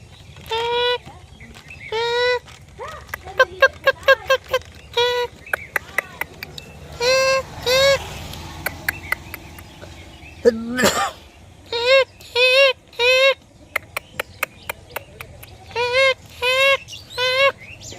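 A person's voice imitating the call of a common myna, making short bursts of harsh, chattering, throaty notes in repeated groups with brief pauses between them, close and loud.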